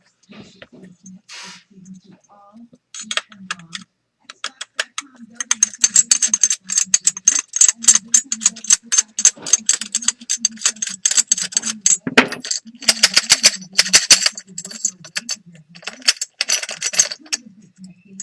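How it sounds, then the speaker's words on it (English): A flathead screwdriver taps loose the castle nut on an AR rifle's buffer tube, producing sharp metallic clicks in quick irregular runs, loud and close, while someone talks over much of it. "if you do not have an AR wrench with the hook to take off the castle nut, you can tap it off with a flathead"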